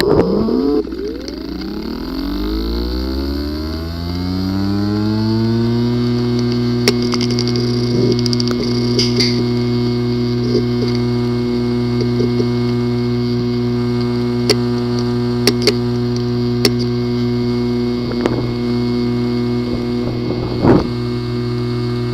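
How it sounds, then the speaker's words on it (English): Damaged Seagate Barracuda hard drive with physical disk assembly failure, spinning up with a rising whine into a steady hum, scattered faint clicks and ticks sounding over the drone. "The following is the sound from one of the hard drive which experienced disk assembly physical damage."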